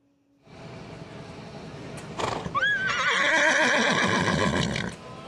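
A mule brays loudly and close at a mule festival, rising to a long harsh wavering cry with a few hoof clops, then stops abruptly.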